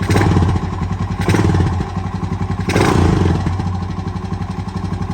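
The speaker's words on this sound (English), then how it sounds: "Give her a little throttle, see what she does." A worn 2007 Honda TRX250TE ATV engine, long sitting and smoking heavily, runs close and loud with steady throttle blips, its rough pulsing exhaust rising and falling without talk.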